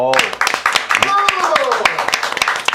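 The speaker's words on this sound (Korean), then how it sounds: "저희 한번 박수 한번 치고 가겠습니다" Studio audience clapping briefly during a Korean political talk show, sharp close claps in a quick burst with voices talking over them.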